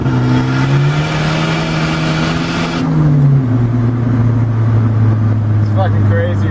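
A Volvo 740 drift car engine revs hard on a night street, heard loud and close through an open window. It climbs steadily in pitch, drops briefly at a gear change, then pulls up again with an aggressive buzzing roar.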